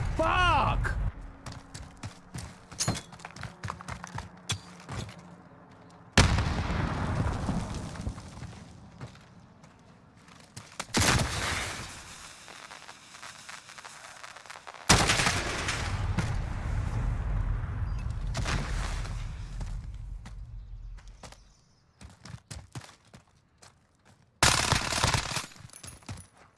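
Repeated video-game gunshots in a one-on-one shooter match, with bursts of rapid fire and single shots over long stretches, mixed with a player talking.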